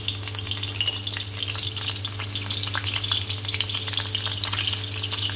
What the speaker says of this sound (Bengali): ডিমটা ভেজে নেব, দুপাশ ভেজে নেব।